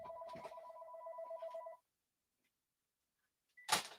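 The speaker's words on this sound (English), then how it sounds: "I got a phone call." A telephone rings with a steady electronic tone for under two seconds and then stops; after a pause, a loud burst of handling noise follows at close range.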